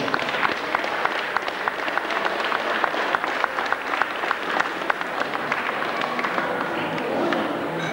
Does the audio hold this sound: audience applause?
yes